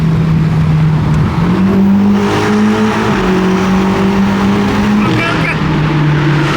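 A BMW M8 Gran Coupe races toward a tunnel, its engine droning loud and close with the pitch rising and shifting as it accelerates, while people talk excitedly over the noise.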